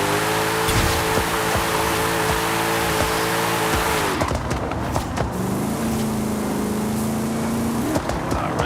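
In Forza Horizon 5, a drag-tuned 1300-horsepower 1986 Ford F-150 engine holds high revs, then drops as tires squeal in a sustained burnout, a steady scream of rubber under the motor.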